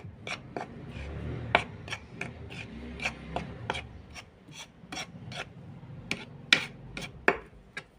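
Chicken and onions with onion powder are stirred together in a pan, a steady run of scraping, rasping strokes with sharp utensil clicks against the pan, close and fairly quiet, with no talking.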